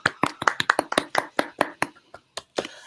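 Several people clapping by hand, a sparse, uneven run of distinct claps at close range, fairly quiet, with no voices over it.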